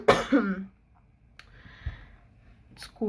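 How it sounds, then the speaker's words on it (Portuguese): A person with a nagging, persistent cough lets out one loud, close, harsh cough at the very start, followed by near-quiet room tone with a few faint clicks and small thumps. "eu tô com uma tosse muito chata"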